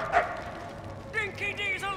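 A dog in the Mad Max video game gives a short yelp near the start, followed by brief bark-like yips later, with game ambience and voices heard over it.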